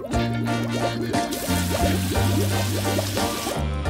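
Water pours and splashes in uneven gushes while a pet cat is being bathed, with tonal rings and thuds around the pouring, fairly close and fairly loud.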